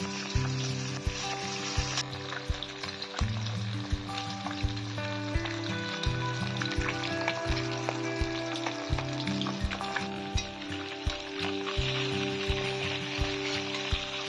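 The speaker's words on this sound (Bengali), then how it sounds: "তেল গরম হয়ে গেছে, এবার মাছগুলো দিয়ে মাছগুলো ভেজে নেব" Rui fish frying in hot mustard oil in a wok, giving a steady, dense sizzle that runs the whole time over a low, tonal background of music.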